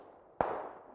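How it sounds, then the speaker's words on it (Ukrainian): A single sharp gunshot crack in the video game PUBG cuts in, followed by a fading echo over a quiet ambient background. "Хтось стріляє."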